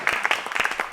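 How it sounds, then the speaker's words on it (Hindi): An audience at a young poets' kavi sammelan breaks into a short, dense burst of clapping for a poet, close and lively. "एक बार जोरदार तालियां बजाइए हमारे नीतीश भैया के लिए।"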